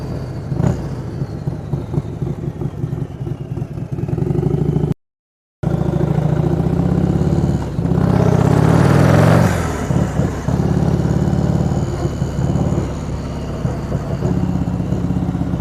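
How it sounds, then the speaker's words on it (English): A turbocharged 2020 Harley-Davidson Low Rider S with over 180 horsepower rumbles at close range, then its blow-off valve lets out a loud rising whoosh before the engine settles back to a clattering idle. "Hear that blow-off valve. Sounds pretty cool."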